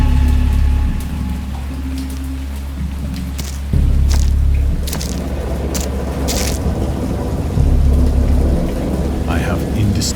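A thunderstorm in the video game Dagon brings steady rain with repeated deep thunder rumbles rolling in and out, loud and close, with no voices.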